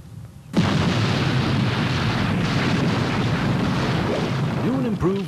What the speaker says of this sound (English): or we'd blow him up